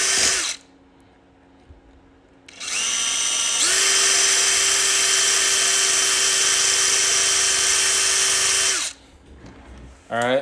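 A cordless power drill with a 1/8 inch bit runs in two bursts: a short whir, then a long steady high whine for about five seconds that spins down, close and loud, with no talk.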